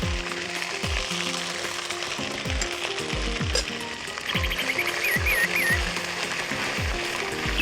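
Sliced onions fry in hot oil in a village kitchen pan, with a steady, close sizzling hiss and crackle running throughout. Repeated low thumping sounds recur underneath.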